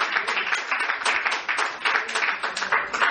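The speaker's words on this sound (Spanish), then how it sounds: "denle un aplauso al Señor" A church congregation applauds in a steady, close burst of many hands clapping together. The sound is rhythmic, with slight surges and no clear speech over it.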